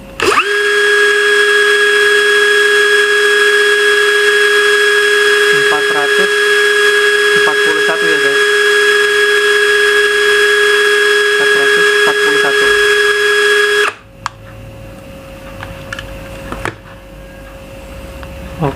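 A HUJIA cordless drill runs at its low speed setting with a steady, close, high-pitched motor whine for about fourteen seconds, then stops abruptly and leaves quieter background noise and a fainter hum.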